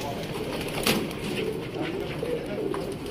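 Pigeons at a Sialkot pigeon market coo in soft, repeated murmurs against a busy outdoor background, with people talking nearby and a brief flutter or clatter.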